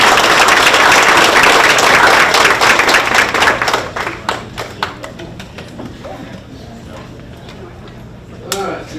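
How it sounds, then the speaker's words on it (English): A loud burst of applause from a room full of people at a Quapaw Nation Business Committee meeting that gradually thins into a few scattered claps and fades out. "can we give TC and Maryland in her absence a round of applause"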